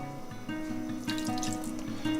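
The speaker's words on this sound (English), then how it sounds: "So now I'm going to add the tamarind juice that I've kept here in the side." Tamarind juice poured into a simmering fish curry, a steady liquid trickle and drip heard up close and alone, with a faint tonal hum running underneath.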